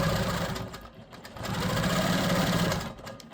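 A sewing machine stitches rapidly as it quilts easy curves across a fabric panel for a custom bag, its close, rhythmic needle chatter pausing briefly before resuming steadily.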